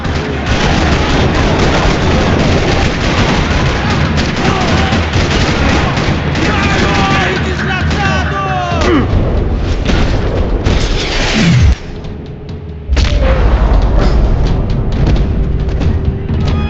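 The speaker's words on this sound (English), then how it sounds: "Another parking lot rattling with gunfire." Gunfire rattles through a parking lot in the Max Payne 3 video game: loud booms and bursts of shots over a dense, busy backdrop, easing for a moment before picking up again.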